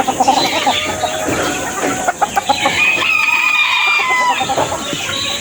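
Chickens in an old coop cluck and squawk steadily, with a rooster crowing partway through, all close by and busy with no voices.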